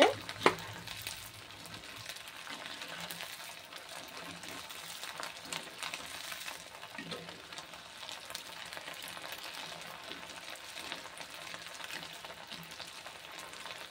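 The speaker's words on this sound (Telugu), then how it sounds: "ఇంకోండి మనం నెక్స్ట్ వాయి కూడా వేపుకుంటున్నామండి" Pieces of idli fry in hot oil with a continuous close crackling sizzle and occasional stirring clinks, loudest right at the start, with no voices.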